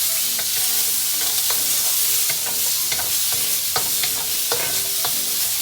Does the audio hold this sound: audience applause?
no